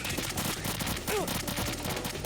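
Rapid gunfire from the stealth-action video game Metal Gear Solid 2, a steady dense burst of shots running throughout, loud and continuous, with game sound effects layered in.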